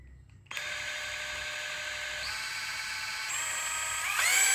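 A National EZ6504 power drill with variable speed control starts after a short silence and runs as a steady high whine, its pitch stepping upward as the speed is raised, with no talking over it.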